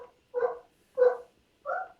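A dog barks three times in an even rhythm, each bark close, loud and clear, with silence between them.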